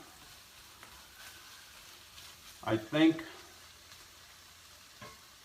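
Chicken frying in a pan on a van cooking setup gives a soft, steady sizzle and faint stirring, with a brief spoken phrase in the middle.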